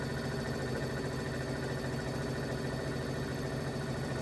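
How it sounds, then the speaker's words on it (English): A sewing machine stitching down a quilt border runs as a constant, close motor drone with a fast, even mechanical chatter, unbroken and without pauses. "sewing my border down"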